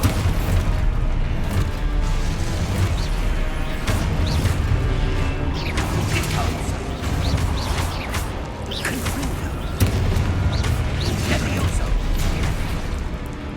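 Loud booming spell blasts and crashes from combat in Hogwarts Legacy, an Expulso explosion among rapid whooshes and impacts, with a voice calling out spell names over the dense, continuous battle noise.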